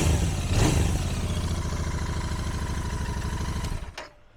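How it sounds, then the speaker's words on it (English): A cold 2024 Royal Enfield Interceptor 650 parallel twin on factory pipes gets a quick light blip of revs early on, then settles into a close, even, throbbing idle before cutting off abruptly. "And now I'll give it a couple just very light revs."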